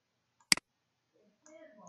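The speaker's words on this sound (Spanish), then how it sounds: "Clic derecho, curva." A computer mouse gives a quick double click, sharp and close, while editing lines in graphic design software, followed by faint quiet speech.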